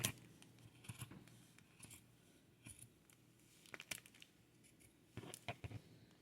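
Scissors snipping through material while cutting out a bowl cozy pattern, a close, quiet run of irregular crisp snips and blade rasps with small pauses between cuts.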